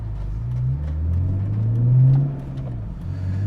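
A BMW E46 M3 with Dinan upgrades revving its engine while being driven, a loud, close mechanical drone that climbs and falls in pitch, peaking around the middle of the run before easing back.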